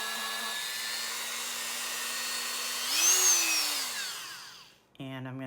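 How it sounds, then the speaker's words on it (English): A small rotary drill whines steadily boring a hole in polymer clay, its pitch rising briefly then dropping as it winds down, and a voice begins just after. "go ahead and drill my hole."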